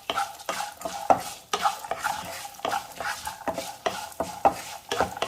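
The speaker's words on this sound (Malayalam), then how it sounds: "ഇതൊരു മീഡിയം ഫ്ലെയിമിൽ വെച്ച് ഈ ഉഴുന്ന പരിപ്പൊക്കെ ഒന്ന് ചുവന്ന് വരണം." Urad dal and chana frying with raisins and dried red chilies in oil over a medium flame, stirred in a quick, regular rhythm of spoon scrapes over a soft sizzle.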